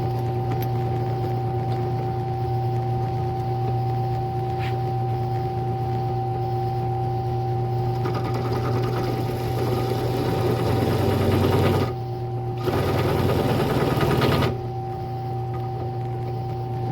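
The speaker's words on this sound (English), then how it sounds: "I've got a 15/64 bit already equipped on this drill press, and all I'm going to do is bore that hole out very carefully" A drill press with a 15/64 bit bores a hole in a small boat hinge. The motor hums steadily and close for the whole stretch, and a louder grinding cut rises around the middle with a brief pause in it.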